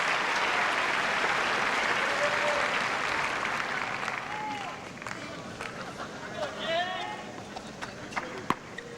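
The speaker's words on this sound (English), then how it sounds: "And again, the roar from this crowd." A tennis crowd at the 2002 Washington match between Agassi and Blake roars and applauds loudly after an Agassi ace, a sustained wash of clapping that slowly fades while a commentator talks over it.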